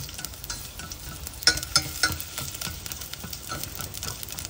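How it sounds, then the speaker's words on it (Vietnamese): Chopped shallots sizzle and crackle steadily in a little hot oil in a pot, a soft continuous frying hiss with a few sharper pops and light stirring, no talking. "Sau khi mình băm nhuyễn tôm thì mình cho một chút dầu vào trong nồi các bạn nhé, để phi cái hành thơm đấy."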